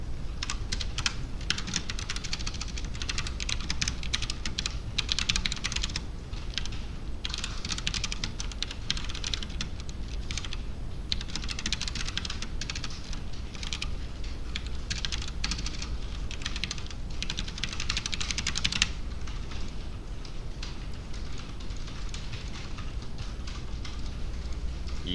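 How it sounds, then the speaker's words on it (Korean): Continuous rapid typing on a computer keyboard, dense clicking keystrokes at steady close range for about twenty-five seconds with brief pauses, no voices. "타이핑 직접 해서 최대한 빠른 방법으로 얘랑 똑같이"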